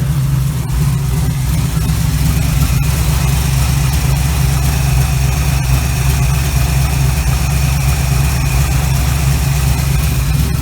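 A 1936 Chevy Coupe engine fitted with a Holley carburetor idles steadily, a loud, close, even low rumble with a constant hum running unbroken from start to finish, no voices over it.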